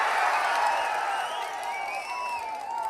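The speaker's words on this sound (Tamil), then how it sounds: "உங்களுடைய ஆரவாரம்" Large crowd at a political rally in Vedaranyam, Nagapattinam district, cheering and applauding steadily, a dense roar of voices and clapping that holds without pause throughout.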